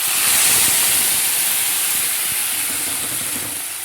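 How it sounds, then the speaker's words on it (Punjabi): Spice masala roasting in hot oil in a pan for stuffed bitter gourd, a steady loud sizzling hiss that holds constant and tapers slightly toward the end. "ਹੁਣ ਆਪਾਂ ਮਸਾਲਾ ਭੁੰਨ ਲਾਂਗੇ"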